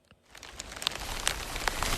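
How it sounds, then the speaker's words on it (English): Light rain sprinkles on a forest trail near Auger Falls in the southern Adirondacks, soft scattered drops tapping leaves and ground, building gently over a steady hiss. "It's sprinkling rain out here"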